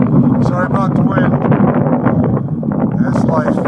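Strong wind buffets the microphone outdoors in a goat pasture, a steady loud rumbling roar that fills the clip without a break.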